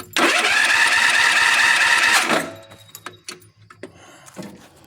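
An engine with no spark cranks steadily and loudly for about two seconds without catching, then stops, leaving quieter clicks and small knocks.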